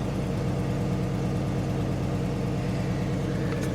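A 2010 Ford Explorer Eddie Bauer with a V8, already warmed up, idles steadily at close range, a continuous low rumble with no revving and no talking.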